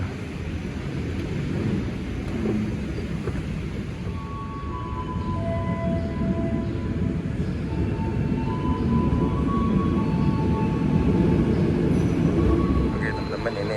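A train pulls in at the Soekarno-Hatta Airport rail station platform with a continuous heavy rumble and rolling noise that builds slightly over time, with faint tonal squeals above it.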